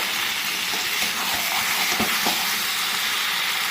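Mutton fat sizzles steadily while being sautéed in a pan for a goat curry, a dense, even hiss with a few soft stirring clicks and no talk.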